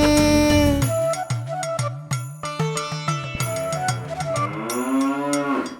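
A cow's moo sounds within a children's nursery rhyme, drawn-out lowing tones woven among bright melodic music and rhythmic accompaniment.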